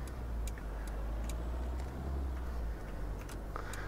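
Ford Transit 2016 mod in Euro Truck Simulator 2, with Skoda engine sounds: a steady, low engine drone while driving at speed, with light ticking clicks scattered on top.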